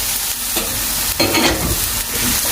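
Minced shrimp sizzles loudly in a hot pan, with scraping strokes of a spatula stirring it at a steady pace.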